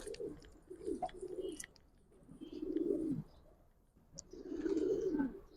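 Giribaz pigeons kept at home coo in three deep, rolling, fairly faint bursts separated by short pauses, with a few light chirps and no speech.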